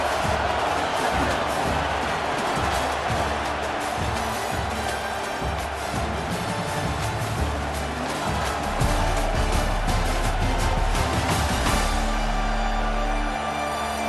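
Steady roar of a football stadium crowd at a second-quarter game between Winnipeg Canadian Bucks and Leavenworth Wranglers, a broad continuous wash of noise with swells of cheering, loud and sustained throughout with no clear talk.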